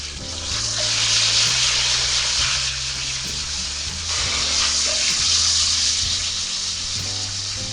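Peppers and broccoli frying in oil in a pan, a steady loud sizzle and hiss throughout with a soft musical background underneath.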